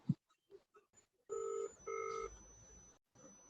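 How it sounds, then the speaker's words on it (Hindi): A telephone rings in two bursts of electronic trilling, close and fairly loud, followed by a lingering steady tone, with brief faint speech fragments just before it. "आपके पास शायद फोन आ रहा है"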